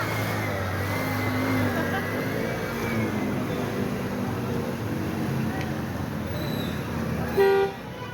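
A bus arriving along a road amid steady traffic rumble, with a short, sharp horn honk near the end; faint voices murmur in the background.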